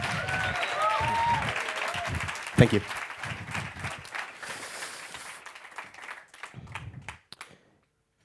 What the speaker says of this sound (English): a round of applause for Yuval, please.